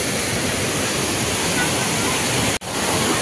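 Heavy rainwater gushing down the stone steps at the gate of Panchalingeshwar temple, a loud, steady, broad rushing roar that drops out for an instant near the end before resuming.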